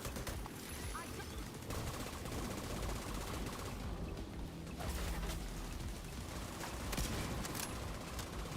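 Gunfire in The Division 2, with dense, continuous bursts of rapid shots and sharp cracks running through the whole stretch without a break.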